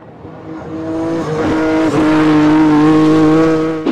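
Nissan GTR R32 with a modified RB26 engine tuned past 1600 horsepower and revving toward 10,000 rpm, a loud, rising engine howl with strong harmonic whine that climbs, holds near the top and cuts off abruptly.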